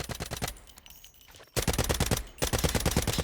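Rapid automatic gunfire from a weapon in the Delta Force shooter, loud and close, with a steady fast rhythm of shots in two bursts separated by a brief pause.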